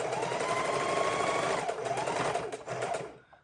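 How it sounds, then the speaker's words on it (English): A sewing machine runs steadily, stitching trim around the edge of a journal cover, a close, fairly quiet whirring hum with rapid needle ticking that winds down and stops near the end. "And we're just sewing it around the edge"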